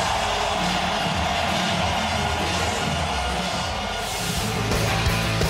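Stadium crowd at a Red Bull X-Fighters freestyle motocross event in Rome, a broad, steady roar of cheering and whooping that holds at a constant loud level throughout.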